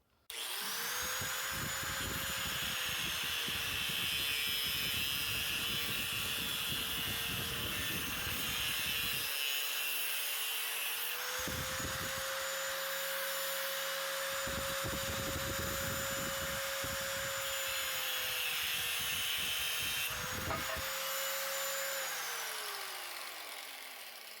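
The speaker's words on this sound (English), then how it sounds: "You can also cut it with an abrasive wheel on your 90-degree angle grinder." Angle grinder with a thin abrasive cutoff wheel cutting PVC pipe, a loud, steady high-pitched whine that stays up through the clip, with several bursts of gritty cutting noise as the wheel bites.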